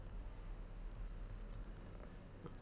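Soft, quick keyboard tapping, faint and close, over a steady low background hum.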